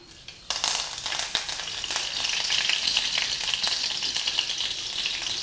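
Hot oil, already popping with mustard seeds, bursts into a loud, crackling sizzle as curry leaves are dropped in, settling into steady frying with scattered pops.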